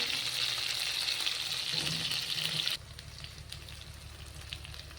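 A soft, steady sizzle of frying in hot oil, close by, with the crackle dropping abruptly partway through to a quieter simmer.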